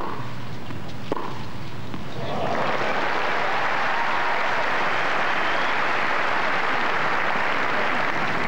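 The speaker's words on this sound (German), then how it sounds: "Verdienter Applaus für diese schöne Rückhand von Martina Hingis." A tennis crowd of about 7,500 on a center court applauds Martina Hingis after a backhand in the 1999 Sydney final; the clapping rises after about two seconds into a broad, sustained wash.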